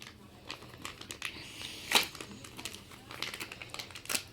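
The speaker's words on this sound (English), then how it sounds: "Take it out of the bag." Plastic parts bag crinkling as a 50-tooth spur gear for a Traxxas X-Maxx RC truck is unpacked: close, dry, irregular rustles and crackles with a sharper burst midway, no talk.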